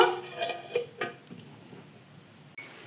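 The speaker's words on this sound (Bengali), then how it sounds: "এবার টিফিন বক্সটা এঁটে নেব" A few metallic clinks and clatters as a tiffin box lid is pressed down, followed by a single sharp click, close by.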